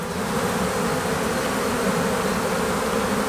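Honey bees buzz in a dense, steady drone during a hive inspection, close and constant throughout with no talking.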